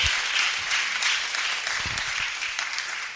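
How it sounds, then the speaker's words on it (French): A church congregation claps together in sustained, dense applause that stays loud throughout with no speech over it. "Acclamons le Seigneur. Let's clap the Lord."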